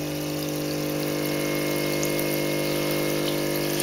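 An air stone aerating water in an Ikon Oxypot DWC hydroponic bucket gives a steady, close, continuous bubbling hiss with a constant pump hum underneath. It holds unchanged throughout, with no talking.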